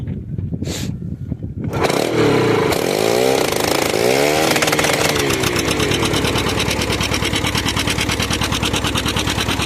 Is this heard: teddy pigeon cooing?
no